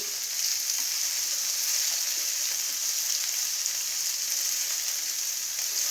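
Masala spices roast in a pan for halwai-style paneer lababdar, giving a steady, bright sizzle that stays even and unbroken throughout, close and fairly soft, with no voices over it.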